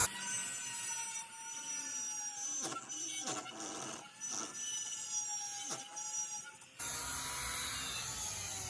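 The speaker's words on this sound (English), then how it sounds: "take the Dremel tool with a little bit in it. We're going to run just a groove along there." A Dremel with a small bit cutting a groove along a half-round transom: a high, whining rotary tool with shifting pitch and several brief bites into the material, then a change to a broader, steadier whir near the end.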